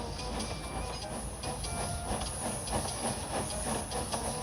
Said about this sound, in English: Murdoch puffed away, hissing steam.